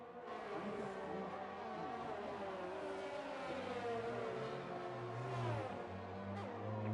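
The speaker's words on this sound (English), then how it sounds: "There's a very loud car outside." Loud car engine noise outside a window, a sustained droning rumble with shifting revving tones that rise and fall continuously for several seconds, fairly steady in level as if passing and racing nearby.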